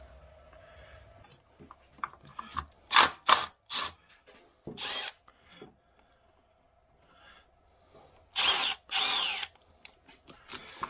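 A power tool spins bolts out of the passenger-side valve cover on a Jeep JKU 3.6 engine, sounding in several short, loud bursts with brief pauses and quieter clinks between them, nearby and with no talking.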